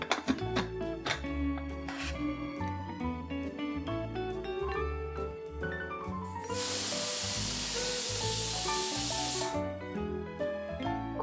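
A pressure cooker cooking kohlrabi greens lets off a loud hissing burst of steam lasting about three seconds, rising out of background music that plays before and after.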